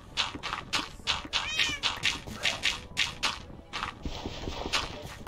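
A cat meows repeatedly in quick, insistent bursts, loud and close, about a dozen calls in a row with brief gaps between them.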